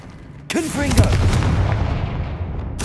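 A Confringo fire-blast spell in Hogwarts Legacy bursts with a sharp, loud crack and rolls into a booming rumble that slowly decays, a voice heard at the start and another hit cutting in at the end.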